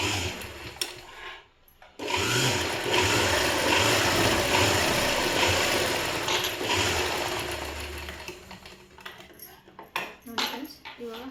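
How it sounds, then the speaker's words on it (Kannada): A sewing machine stitches the folded hem of a government school uniform, giving a loud close rattling run for several seconds that slows and fades, followed by scattered mechanical clicks and handling noise. "ನಾನು 1 ಇಂಚಿಗೆ ಇನ್ನೊಂದು ಸ್ಟಿಚ್ ಹಾಕ್ಕೊತಾ ಇದ್ದೀನಿ"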